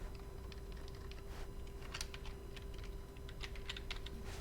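Quiet computer keyboard typing while working in Blender, a scattered run of light key clicks with brief pauses, including a press of the Tab key, over a steady background hum.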